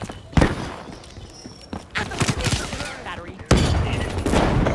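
Bursts of gunfire, thumps and explosions from the Call of Duty Black Ops 3 video game, dense and loud, with scattered spoken lines over the action.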